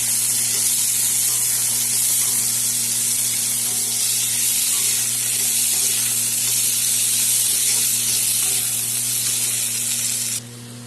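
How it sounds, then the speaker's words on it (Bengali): Potatoes and onions fry together in a pan for a Bengali dish, giving a loud, unbroken sizzling hiss up close that holds steady for about ten seconds before dropping off abruptly, with no talk. "এখন সব একসাথে ভাজা হবে"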